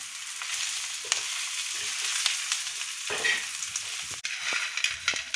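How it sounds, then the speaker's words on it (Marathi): Coconut frying with onions in a pan until red, a steady close sizzle punctuated by repeated sharp stirring clicks and scrapes of the spoon. "खोबरं पण एकदम लाल असं तळून घ्यायचं आहे आपल्याला"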